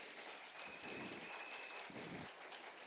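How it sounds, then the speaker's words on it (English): Applause from an audience at a startup demo day event in Riyadh, a steady, dense clapping texture that fills the whole moment without speech. "Give me a big clap, please."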